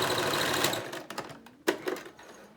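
Sewing machine stitching a seam allowance along the bottom of a fabric face mask: a close, steady mechanical whir for under a second, then silence broken by a few short clicks and a brief burst.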